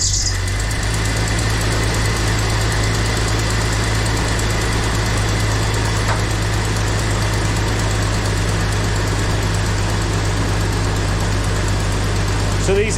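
Jeep Cherokee XJ engine running at a rough, unsteady idle after the battery was disconnected, a loud continuous drone with low rumble throughout.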